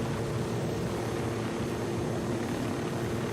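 Propeller plane in Ghost Recon Wildlands, a steady, loud engine drone and rushing air, unbroken throughout with no speech.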